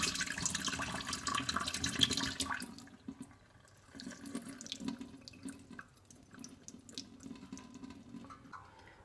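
Water drains from a bowl of washed raw sesame seeds, pouring loudly at first and then thinning into softer trickles and splashes.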